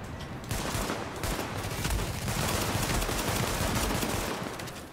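Sustained automatic gunfire in The Division during a survival PvP match, loud and continuous bursts packed tightly together for several seconds before easing off at the end.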